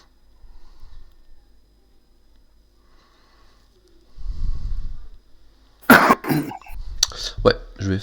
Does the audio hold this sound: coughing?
yes